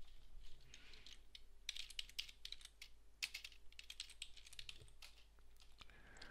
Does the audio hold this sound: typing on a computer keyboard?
yes